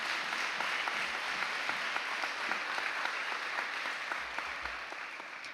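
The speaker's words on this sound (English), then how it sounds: "Let's give her a round of applause." Audience applause for a teacher at a Cotulla High School NHS induction and hooding ceremony, a steady wash of many hands clapping, fairly distant and soft, continuing evenly throughout.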